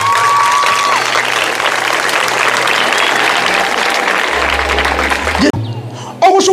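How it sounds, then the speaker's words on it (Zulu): An audience at a high school event applauds loudly, the sustained clapping filling the space for several seconds before cutting off abruptly, with a short tonal sound and some noise after. "Shaya izandla"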